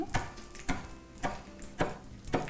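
A knife rapidly chops fresh parsley and coriander on a cutting board: five crisp, evenly spaced strikes, close and clear, with no talking.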